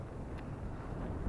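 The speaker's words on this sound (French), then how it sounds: "Le vent est en fait, quand il passe ici, il est beaucoup plus fort que les autres endroits." Strong wind buffets a Catalina 22 sailboat on San Francisco Bay, a steady low rumble of gusts roaring across the microphone throughout with a few faint higher swishes.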